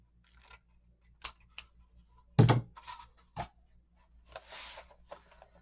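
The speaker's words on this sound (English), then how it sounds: "I'm going to cut it a little extra length so I can cuff it." Scissors cutting gift-wrap material for a gnome-style wrapped present, a few crisp snips with one louder, sharper cut near the middle amid soft handling rustles.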